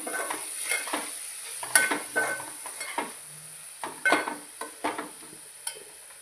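Turmeric is stirred into a mushroom curry in a pan with a spoon, making a soft sizzle and a series of light scraping and tapping strokes at an uneven rhythm, close up with no voices.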